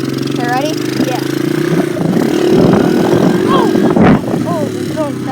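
A dirt bike carrying a passenger rides fast, its engine droning loud and steady close by while wind buffets the microphone; people talk and shout over the engine.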